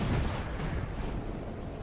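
A torpedo striking a ship in the naval war game Battlestations Pacific makes a heavy, continuous explosive rumble. It stays loud and dense throughout and eases off only slightly toward the end.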